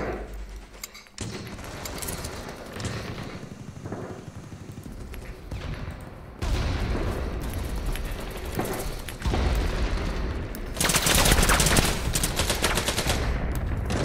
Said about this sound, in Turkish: her yerden bir mermi geliyor